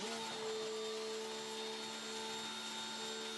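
A Greenworks or Ryobi electric pressure washer drives a foam cannon fitted with a Ridge Washer 3.0 nozzle, giving a steady, close motor whine with a constant pitch and no pauses or talk.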